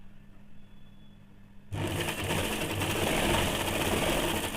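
A sewing machine starts up abruptly after a quiet moment and runs in a fast, steady whir up close, stitching around the curved upper edge of a semi salwar.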